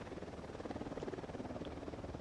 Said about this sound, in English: That helicopter is coming here as air support.